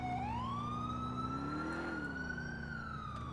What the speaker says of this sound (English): I'm controlling lights and sirens.